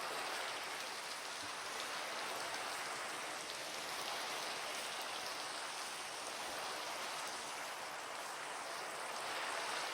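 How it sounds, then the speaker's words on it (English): Steady rain falls as an even, hissing wash of drops that stays constant and fairly quiet throughout, with no voices over it. "Is it the rain messing with the audio?"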